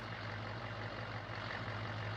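A tractor engine in Farming Simulator 17 runs steadily at idle, a constant low droning hum with no change in pitch or level and no talk over it.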